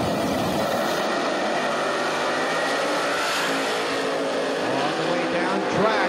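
A 1970 Challenger and a 1969 Camaro, both 9-second drag cars, run side by side down the strip at Beech Bend Raceway in a continuous loud engine roar, while a commentator talks over it.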